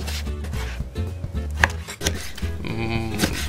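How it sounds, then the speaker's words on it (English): A knife cuts bacon into thick, half-inch slices on a board, making a series of close, uneven chopping thuds with scraping between strokes, heard alone without talking. "You'll cut these into thick slices as well"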